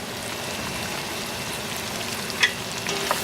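Asparagus tips, garlic and onion frying in a pan for pasta primavera, with a steady close sizzle and a few brief scrapes of stirring near the end.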